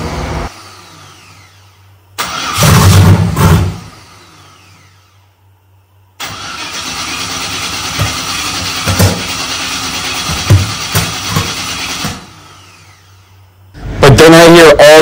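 A no-prep drag build car with a cam and crank sensor fault cranks and tries to start, giving irregular loud pops and sputtering bursts between quieter gaps, heard up close.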